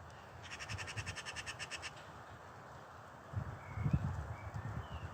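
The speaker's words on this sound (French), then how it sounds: "Elle est pas contente, la pie." A magpie at an abandoned pipe works gives a harsh, rapid rattling chatter of about a dozen evenly spaced notes, moderately close. It then falls quiet against steady outdoor background noise.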